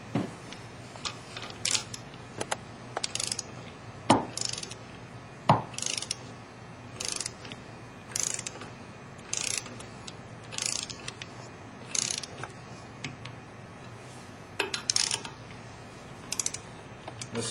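A torque wrench tightens nuts on OPTISEP 800 holder plates in a crisscross pattern, producing a series of sharp, close clicks and ratcheting snaps spaced out over the clip, with no talking.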